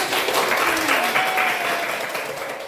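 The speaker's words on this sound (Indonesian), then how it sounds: "beri tepuk tangan dulu" Classroom applause from students after a teacher's invitation, a steady wash of clapping that fades slightly toward the end, with a faint voice speaking underneath.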